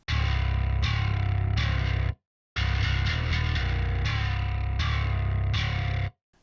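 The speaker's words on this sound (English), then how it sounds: "I have the nocturnal bass here on distortion mode" Heavily distorted bass from the Nocturnal bass plugin set to distortion mode, for an industrial metalcore demo: dense, loud sustained notes in chugging phrases with a brief gap of silence partway through.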